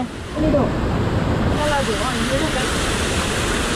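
Rushing water at Ukkada Waterfalls in Chikkamagaluru, a steady broadband roar filling the whole clip, with voices talking briefly over it.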